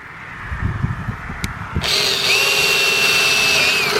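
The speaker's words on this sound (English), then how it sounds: "and drill 2 holes" A few soft knocks and a sharp tap, then a power drill boring holes in the back of a box whirs steadily and loud at close range, its pitch shifting slightly as it bites.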